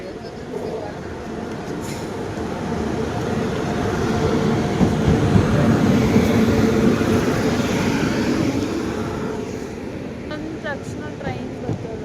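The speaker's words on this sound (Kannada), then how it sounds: "ತಕ್ಷಣ ಟ್ರೈನ್ ಬರ್ತದ." A train arrives at a station with a steady, loud rumble that swells toward the middle and then eases, with faint clatter and brief squeals near the end.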